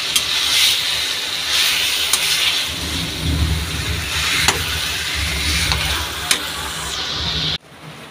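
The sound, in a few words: fish head frying in a pan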